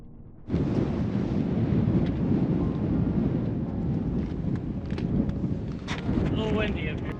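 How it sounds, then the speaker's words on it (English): Strong, steady wind buffets the microphone at the edge of a canyon cliff on the Canyon Lake Massif trail, a constant loud roar that runs without a break. Brief faint voice traces surface near the end. "A little windy up here."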